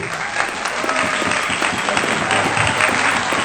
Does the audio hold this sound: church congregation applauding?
yes